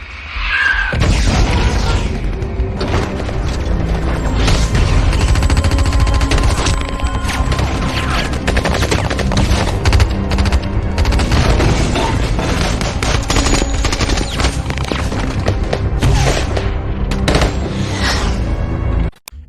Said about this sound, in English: Mortars incoming. Get cover!